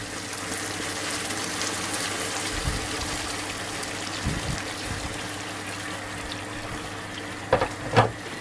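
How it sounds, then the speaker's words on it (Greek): Water runs into a cooking pot in a home kitchen, a soft continuous trickle and gush heard fairly close, with a few dull clunks of the pot partway through and near the end. "Θα βάλουμε νεράκι."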